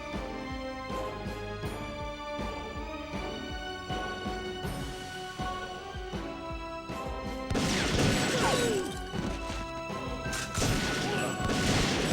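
Explosion in the PS2 shooter TimeSplitters, a loud broadband burst erupting after several seconds of percussive game sounds and music, with a second blast following, no talk over it.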